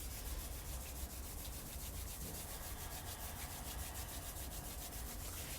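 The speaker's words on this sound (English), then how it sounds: "Rub those beautiful hands." Hands rub together continuously, producing a close, soft, steady friction swish with no pauses across the whole stretch.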